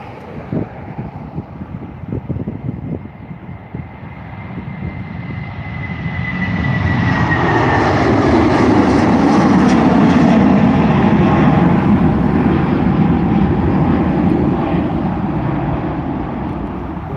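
A United Boeing 757 takes off at Dublin Airport, the jet roar swelling from a distant whine into a loud broad rumble as it accelerates past, then holding steady with some wind noise on the microphone.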